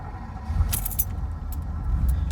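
Dashboard of a third-generation Pontiac Trans Am rattling and jingling while driving, light clicks and a brief jangle over a steady low road rumble from inside the cabin.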